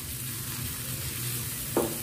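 Egg sizzles steadily in a pan, with a short scrape of a ladle stirring near the end, close and fairly quiet.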